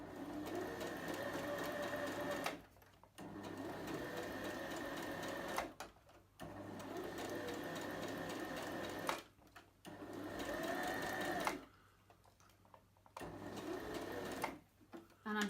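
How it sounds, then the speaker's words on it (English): A sewing machine stitching a reusable heat pack, a steady rapid mechanical whirring in several runs of a few seconds each, separated by brief pauses, close and even. "and then I'm going to continue sewing."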